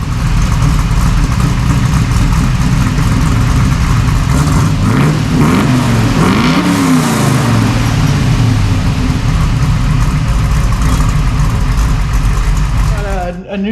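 A 1968 Nova Super Sport engine breathes through straight-through stainless steel mufflers, a steady deep rumble with brief throttle blips rising and falling in the middle, loud and close.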